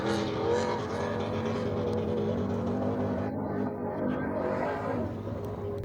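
A single cab Chevrolet with a 5.3 or 6-liter LS V8 screams at high revs while tearing through sand dunes, a loud sustained engine roar with shifting pitch.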